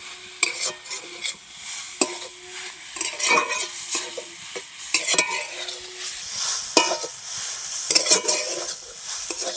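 Spiced radish stuffing for paratha cooking in a pan over a high flame: continuous sizzling under frequent scraping and clattering stirs of a spatula against the pan, close and busy.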